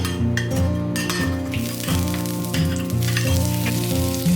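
Onion sizzles loudly in hot oil as it is stir-fried, a steady dense crackle with occasional clinks of a utensil against the pan, close and continuous with no voices.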